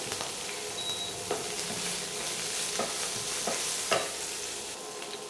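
Onion and capsicum stir-fry on a high flame with a constant close sizzle, broken by several sharp scrapes and clinks from stirring.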